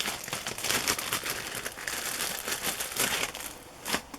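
A crinkly plastic bag holding sewing trims is rummaged through up close, producing continuous rustling and crackling crinkles with a few louder crunches, no voices.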